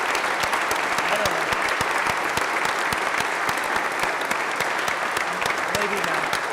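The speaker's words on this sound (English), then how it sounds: "He deserves a round of applause" A large audience gives a sustained round of applause during a senator's opening remarks, a dense, even roar of many clapping hands with occasional voices underneath.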